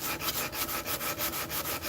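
Hand sanding a wooden piece with a steady back-and-forth rhythm of about six quick, even rasping strokes per second, close and dry with no voices.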